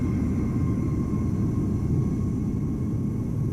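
Ryanair airliner approaching in a cloudy-weather Amsterdam Schiphol scene in Microsoft Flight Simulator, heard as a steady, loud low jet rumble and roar that holds level throughout, with no talk over it.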